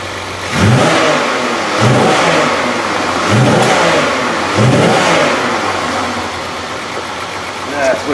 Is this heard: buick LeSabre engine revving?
yes